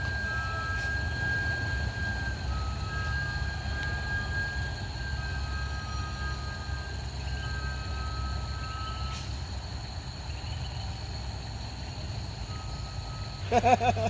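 A small single-axle tanker truck idles with a steady low engine rumble, joined by thin high beeping tones at intervals and a short burst of clatter near the end.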